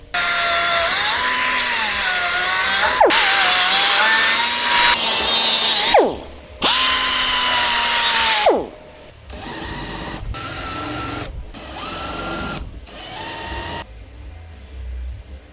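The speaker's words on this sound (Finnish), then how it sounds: "On merkattu sit vaan hiotaan niistä pyöreät." A power sander grinds round edges onto Audi 100LS C1 parts in loud sustained bursts with pitch shifts as pressure changes, then shorter, quieter intermittent passes with brief pauses between them.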